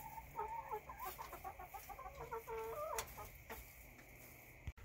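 Chickens in a new coop cluck in a busy run of short, rhythmic calls that rise and fall close by, with no talking.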